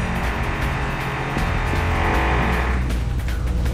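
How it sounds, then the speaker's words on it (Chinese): A steady, loud mechanical drilling whir from the video game Identity V, running continuously with a rough, engine-like drone and no voices. "怎么还有打钻的声音呢？"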